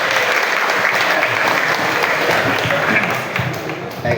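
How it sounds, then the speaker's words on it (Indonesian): A classroom audience at an Islamic teaching session bursts into loud, dense applause that runs steadily through the whole stretch, with voices mixed in. "Tepuk tangan luar biasa"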